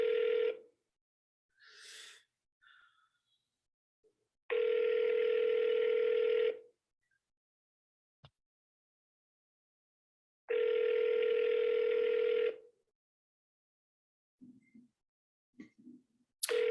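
Telephone ringback tone heard while dialing a phone number in a live calling session: three long, loud steady ring bursts spaced apart, with brief faint clicks and dial sounds between them and no talking.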